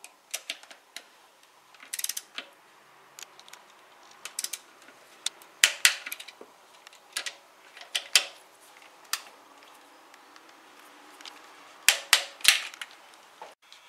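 Bolts on a Passat cylinder head cover being torqued to 20 Nm, heard as a series of short, sharp ratcheting clicks in scattered bursts, fairly close and moderately loud with quiet pauses between.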